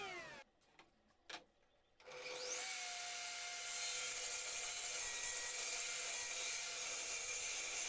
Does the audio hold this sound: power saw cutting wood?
yes